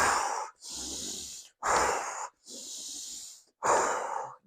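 Deliberate deep breathing, three long, loud, close inhales alternating with two softer, airy exhales, each breath separated by a brief pause; no speech.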